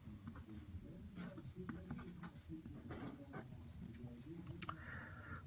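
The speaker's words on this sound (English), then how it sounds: "I'll go ahead and write that down." Pen or pencil scratching on paper while working through an algebra problem, with soft irregular strokes and taps, faint and close, in quiet surroundings.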